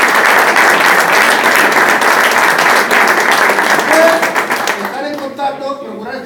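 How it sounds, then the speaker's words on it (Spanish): A gathering of former C.F. Badalona football players claps in memory of former teammates: dense, loud applause that holds for about five seconds, then thins and fades as voices take over. "yo rogaría un aplauso para ellos."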